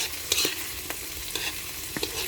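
Argentina corned beef with garlic fries in a pan, a constant bright sizzle with a few soft scrapes and taps as it gets stirred, close and steady with no voices.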